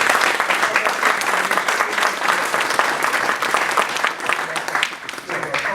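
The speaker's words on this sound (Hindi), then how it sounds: "ज़ोरदार तालियां कर दें।" Audience at an organisation meeting bursts into loud, sustained clapping, a dense crackle of many hands with a few stronger individual claps standing out, steady to the end.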